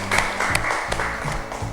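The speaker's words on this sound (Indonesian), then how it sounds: "kita berikan tepuk tangan buat kelompok 2" A classroom audience claps for a student group, a dense, continuous patter of many hands heard close for the whole stretch, with no voices over it.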